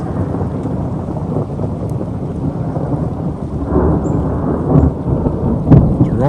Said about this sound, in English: It's rolling thunder.